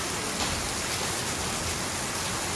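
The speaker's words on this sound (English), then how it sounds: "80 degrees, nice gentle rain" Gentle rain falls steadily in a warm 80-degree setting, a soft, even hiss of drops with no talk heard over it.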